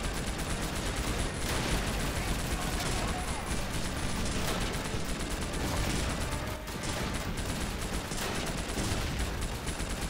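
Dense, continuous gunfire and artillery blasts fill a World War II real-time strategy game, busy volleys layered throughout with no pause.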